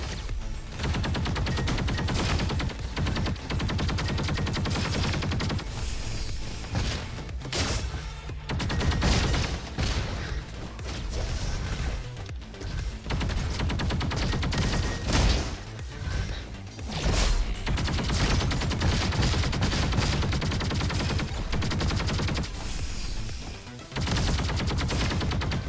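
Quasar SMG firing in the video game Roboquest: dense, continuous automatic gunfire with crashes and whooshes, loud and sustained across the whole stretch with brief lulls.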